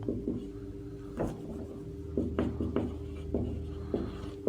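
Marker or chalk writing on a classroom board during a physics lesson, a few short scratchy strokes and taps close by, fairly quiet with pauses between them.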